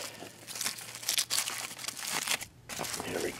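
Crinkly foil or paper wrapping being peeled off a California Tortilla ramen burrito, a dense run of close crumpling and tearing rustles with short pauses, no talking.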